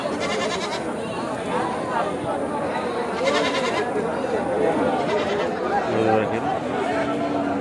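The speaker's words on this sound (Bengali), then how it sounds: "দেখেন আরিচা হাটে আজকে কত খাসি ছাগল উঠেছে" Goats bleat repeatedly, some close and some farther off, across a crowded Aricha livestock market after Eid al-Adha, their calls rising over a constant murmur of crowd chatter and nearby talking.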